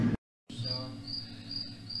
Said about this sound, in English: cricket noise. Fucking cricket.